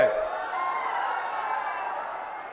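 Broad, steady murmur of a large crowd gathered at a political rally in Patna, Bihar, a dense, distant wash of voices holding at an even level throughout.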